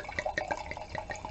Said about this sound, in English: So let's pour a little bit of this Night Vine